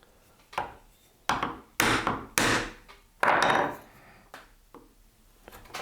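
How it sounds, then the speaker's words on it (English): Sharp wooden knocks of a mallet driving a chisel while cutting dovetail joints, struck in irregular, spaced blows, some louder than others, close and with no voices. "as we go deeper we can hammer slightly heavier"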